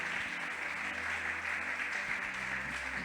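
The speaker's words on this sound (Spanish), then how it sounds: "Damos un fuerte aplauso a Dios por toda la gente." A congregation applauds during a church service, a dense, steady wash of clapping that holds at an even level for about three seconds with no break.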